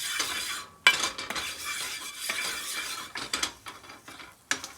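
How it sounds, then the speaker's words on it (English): Butter and flour roux cooked and stirred in a pot for canned-vegetable soup, with a steady spoon-scraping hiss broken by a few sharp clinks against the pot, heard up close with no talking. "So I just want to cook the raw taste out of my butter and flour."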